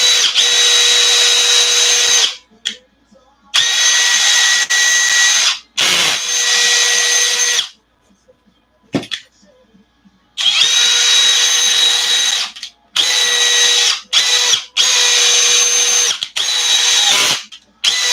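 Power drill working on an ARRMA 6s RC car during repair, a high whining motor in repeated bursts of a second or two separated by short pauses, loud and close with no talk.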